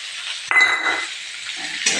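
Peas and ginger paste hitting a pan of frying potatoes and tomato, a brief close sizzle with a couple of clinks from a metal spoon stirring against the pan.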